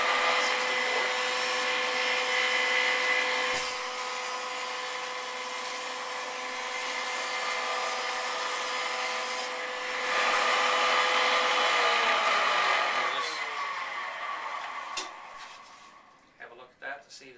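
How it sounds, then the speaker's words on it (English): A woodworking jointer skims the edge of a guitar top board, a loud steady machine whine and planing roar running almost unbroken for about twelve seconds before it winds down into a few scattered knocks, with no talk. "set it on the jointer so that when we joint them, and if there's any imperfections, once you open it back up, things are perfect"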